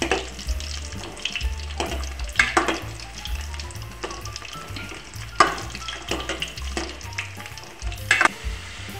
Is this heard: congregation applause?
no